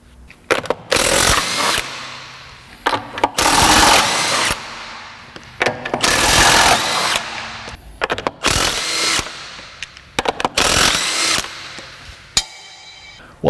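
A power tool removing wheels from a 2003 Nissan Sentra SE-R fires in repeated loud rattling bursts of a second or two each, separated by short pauses and clinks, close by in a garage.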